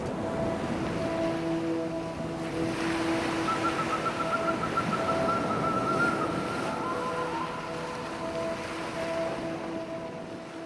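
Ocean waves wash against the shore in a steady, loud broadband roar with wind across the microphone, and a low, even tonal hum sits underneath throughout.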